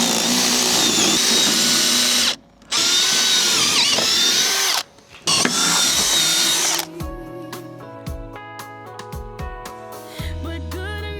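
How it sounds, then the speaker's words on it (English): A power drill bores into steel for bolt holes, screaming loud and close in two long bursts with short pauses between, then winding down into lower whirring and scattered rattles. "I'll drill these."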